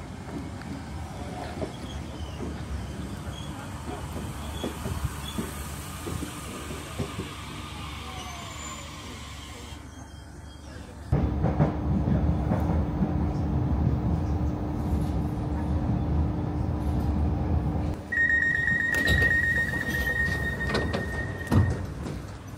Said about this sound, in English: So I'm waiting for the next train now